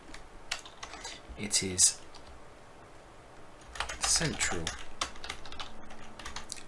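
Keystrokes on a computer keyboard come in two quick bursts of clicking while renaming an item in a strategy game, with someone speaking briefly in between.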